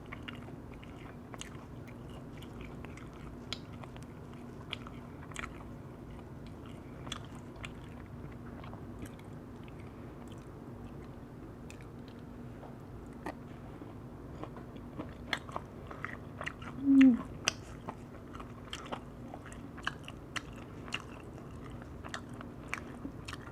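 Chewing firewood-roasted whole chicken neck, with soft bites, faint crunches and wet mastication spread over a long, quiet stretch and one louder crunchy burst midway, close to the mouth and without speech.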